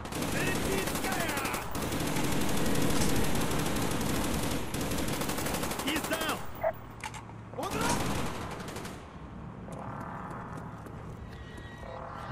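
Enemy gunfire in Call of Duty: Black Ops on Veteran difficulty, with sustained rapid automatic fire that is loud and continuous for several seconds, then sparser bursts over game ambience and clattering effects.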